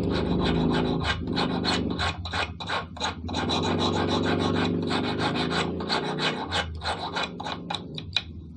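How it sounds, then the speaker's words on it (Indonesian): A hand file rasps over a steel rod, rounding it off in repeated close, scraping strokes with brief pauses between passes. "Langsung aja ngikis membulatkan dulu si batang bajanya"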